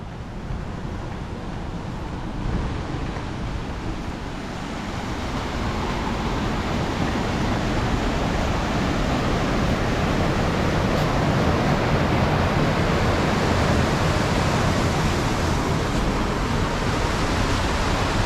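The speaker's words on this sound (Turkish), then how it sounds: "bu dere böyle akarak şehrin içerisinden geçiyor." A stream flows through a city park in Gdańsk, a continuous broadband rush of water that grows slightly louder after a few seconds and then holds steady, with no voices.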